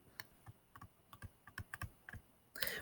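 Notes are taken during a physics lesson: a series of quiet, close taps and clicks in an irregular rhythm, heard alone, ending in a brief louder rustle.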